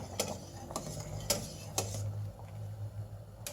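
A metal utensil scrapes and clinks against the side of a pot of simmering çökelek cheese a few times, with a low hum underneath.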